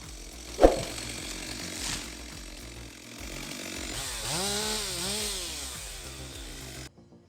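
Chainsaw cutting down a giant 65-ton pine, a steady engine drone with a sharp crack early on and a rising, wavering whine in the later seconds before it stops abruptly.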